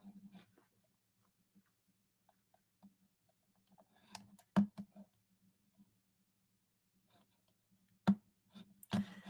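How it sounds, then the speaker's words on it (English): Sparse clicks and taps on a computer keyboard in a quiet room: scattered faint ticks, then a few sharper, louder key presses, one near the middle and two toward the end, under a low steady hum. "We're going to click enter."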